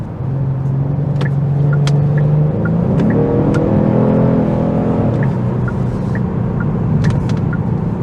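A 2023 Genesis G70 3.3T's engine, heard from inside the cabin, holds a steady drone, then blips sharply upward in pitch as it rev-matches a downshift and settles again. The engine note stays continuous and moderately loud throughout, with no talking.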